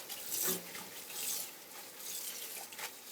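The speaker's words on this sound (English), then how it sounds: "Rinse it in cold water." Cold tap water runs and splashes over freshly boiled noodles being rinsed in a kitchen sink for pad thai, a steady hissing stream with surging bursts, close and fairly loud, without speech.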